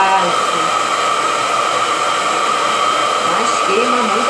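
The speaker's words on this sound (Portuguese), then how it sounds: "Minha filha disse que o secador tem que ser de cima para baixo." A hair dryer roars loud and close, blowing steadily on hair without a break, while a voice speaks faintly underneath the constant whoosh.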